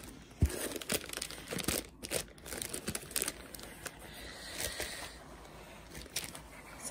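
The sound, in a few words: unwrapping plastic packaging from a diamond painting kit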